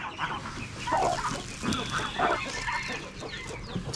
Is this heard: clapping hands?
no